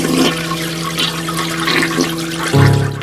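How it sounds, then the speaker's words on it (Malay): A toilet flushing in a women's public restroom near a beach, a steady rushing wash of water running throughout and swelling louder near the end, with no talk. "Sekali lagi, Casey, dengar bunyi orang flush tandas."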